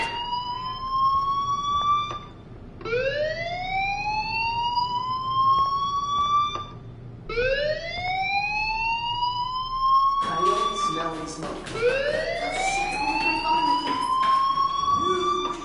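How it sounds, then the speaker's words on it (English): A fire alarm sounds inside a PS4 video game, its rising siren-like sweeps repeating loudly in long cycles over a steady background hum, with a second overlapping wail layering in near the end. "Hey, do you hear that fire alarm?"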